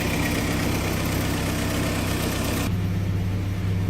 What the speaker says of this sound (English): Okay, so she's idling along here.